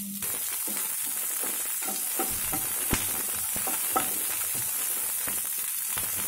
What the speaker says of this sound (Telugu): ఇవి కొంచెం వేయించుకుందాం.